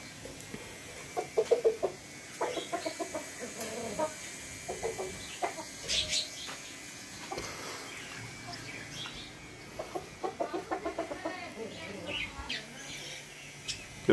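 Aseel chickens cluck and squawk intermittently in soft bursts at close range, over a quiet outdoor background.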